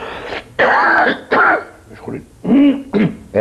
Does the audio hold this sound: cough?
yes